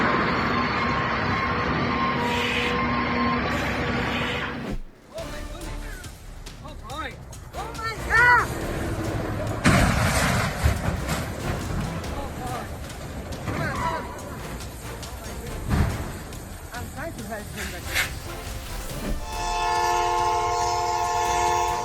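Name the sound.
train colliding with heavily loaded trailer in Celaya, Mexico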